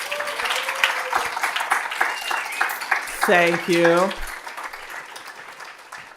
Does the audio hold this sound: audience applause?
yes